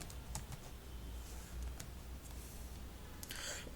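Quiet, steady typing on a computer keyboard while entering a customer name in business software, soft rapid key clicks over a constant background hiss, with no voices.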